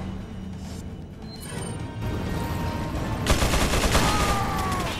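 Minigun fire in Resident Evil 4 on PS4: a steady, dense roar of rapid game gunfire builds and grows louder and harsher partway through, with no voices over it.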